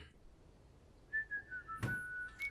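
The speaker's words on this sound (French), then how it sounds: "et effectivement elle siffle, d'où le whistle certainement." A woman whistling a sustained, slightly wavering tune in a music video, starting after a quiet lead-in and holding steady, clear and moderately near, with a brief broadband thump partway through.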